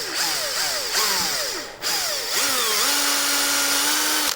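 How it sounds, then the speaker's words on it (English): A small drill with a 1/16-inch bit whines steadily through resin, its pitch dipping and recovering as it bites, with a brief pause before running on at a constant high speed. "I have a 1/16 drill bit that I'm going to put through here"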